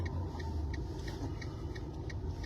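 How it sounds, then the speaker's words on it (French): Steady low road rumble fills the cabin of a moving car, with continuous engine and tyre drone and a faint ticking on top, near and constant with no breaks. "Je suis dans la voiture, c'est pourquoi il y a du bruit."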